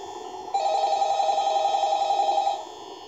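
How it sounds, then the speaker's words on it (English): A phone rings in the video game Five Nights at Freddy's, a steady electronic ringing tone held for about two seconds over a low background hum, then cutting off. "got a phone call"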